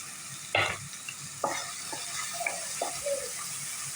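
Onion puree and chopped onion in a pan on a home stove, heard as a few soft separate sizzles and stirring scrapes over a faint steady background, with no talking.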